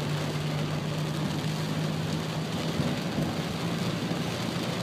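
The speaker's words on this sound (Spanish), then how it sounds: "los árboles mojándose con esta lluvia" Rain falling on the streets of Chavinda, a steady even hiss of rainfall with a low engine hum beneath, moderately faint and unbroken.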